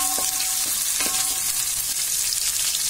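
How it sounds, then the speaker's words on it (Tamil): Onions and curry leaves fry steadily in a pan at lunch, a constant close sizzle with a few soft stirring scrapes near the start and no talk. "வெங்காயம் சேர்க்கிறேன். அப்படியே கருவேப்பிலை"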